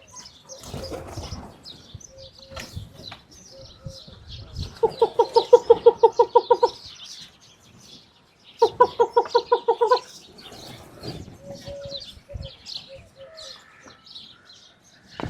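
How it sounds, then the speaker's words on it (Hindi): Peacocks, pigeons and sparrows in a peacock village in Thar, Sindh: scattered chirps and calls, with two loud bursts of rapid wing-flapping or repeated calls close by, over low thumps and faint background voices. "मोरों के साथ कबूतर भी आ जाते हैं, चिड़िया भी हैं।"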